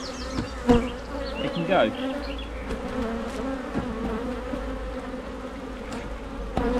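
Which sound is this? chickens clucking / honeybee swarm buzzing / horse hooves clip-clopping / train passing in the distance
honeybee swarm buzzing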